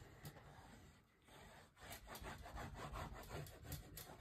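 Score tape being burnished onto a paper mini album, a faint, close rhythmic rubbing and scraping in quick repeated strokes, with a brief lull partway through and no talking.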